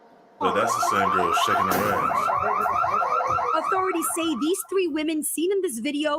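A store alarm rings loudly and steadily with a warbling, repeating tone throughout, heard under continuous overlapping speech.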